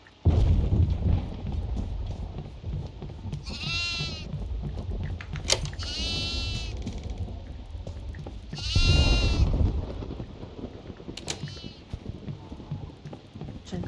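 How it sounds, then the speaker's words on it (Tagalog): Goats bleat inside a farmhouse in the Devour horror video game, with three loud, wavering bleats spread across the clip over a dense, rumbling game soundscape with faint hoof-like clatter; no one speaks. "May 2 kambing sa library."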